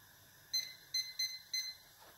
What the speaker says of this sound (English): start my timer for 60 minutes